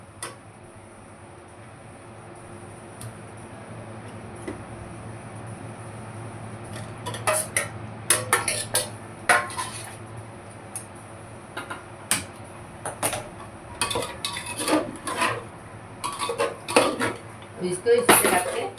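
Stuffed tinda (round gourd) pieces go into a pan one after another, giving sparse clinks and knocks that grow quicker and busier, close and crisp over a low background hum.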